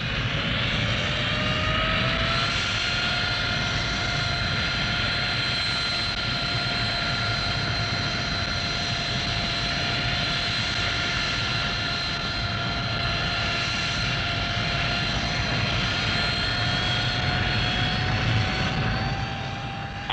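A 1960s military jump jet strike aircraft roars with a loud, sustained engine drone and a steady high whine that slowly rises in pitch, continuous and near for the whole stretch with no voices.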